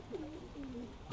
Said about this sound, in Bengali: এটা একটা আন্ধ্রা পায়রা